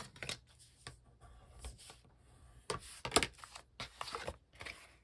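Paper pieces for a 6x6 album being folded and handled: soft crinkles, creases and brushing rustles in short irregular bursts, near and quiet, with no talking.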